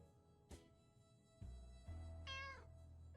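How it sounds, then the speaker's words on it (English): A cat in the video game 60 Seconds! Reatomized gives a single clear, bright meow over a low hum and a few soft thuds. "We have a cat."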